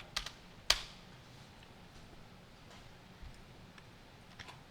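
A few faint, sparse keyboard key presses in a quiet room while working in Mitsubishi PLC programming software, two sharper taps early on followed by softer scattered clicks.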